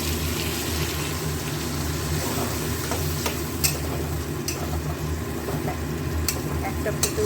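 A sauce mixture for chilli paneer sizzles steadily in a hot pan, a constant frying hiss with a few faint clicks scattered through it and no voices.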